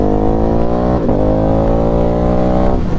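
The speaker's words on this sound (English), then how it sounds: "this bike sounds good with that turbo exhaust" A Ducati Hypermotard 950 SP motorcycle with a turbo exhaust revs loud and close, a steady harmonic drone that surges in pitch, dips briefly, then climbs again.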